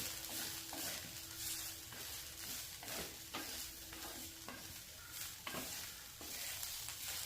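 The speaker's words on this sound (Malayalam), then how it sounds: "നമുക്ക് നന്നായിട്ട് ഇളക്കി കൊടുക്കാം" Grated coconut and pepper are stirred into an eggplant curry in a pan, with a soft continuous sizzle and repeated scraping strokes of a spoon at a steady rhythm, fairly quiet and close, without talk.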